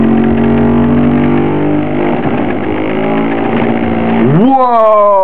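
A homemade electric motor wired to a series of 9-volt batteries runs with a loud, buzzing, harmonic drone like an engine, then sharply rises in pitch near the end as it speeds up.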